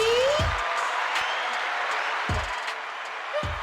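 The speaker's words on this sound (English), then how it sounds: "I heard the applause" A studio crowd greets Lacey, the Cookie Lane owner from Richmond, with steady, dense clapping that stays fairly loud throughout, broken by a few low thumps.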